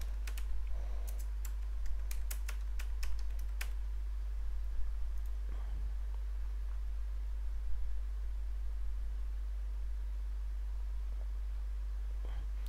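Keys clatter on a computer keyboard as a company name is typed into an export council RCMC online application form, a quick burst of clicks early on then sparse single taps over steady low hum, with no talking.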